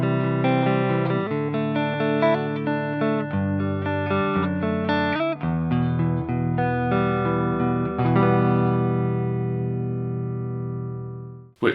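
Electric guitar clean tone played through a Reload 2 with a greenback impulse response, a sequence of sustained chords and ringing notes, fairly loud and alone, ending in a sharp final strum.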